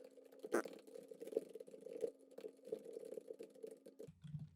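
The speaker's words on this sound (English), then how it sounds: "sorry if I'm like typing super loud. This keyword is so loud." Typing on a loud computer keyboard, close up, with scattered key clicks and clacks in an irregular rhythm and a low steady hum underneath, ending in a brief murmur.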